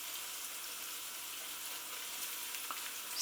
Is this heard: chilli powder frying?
yes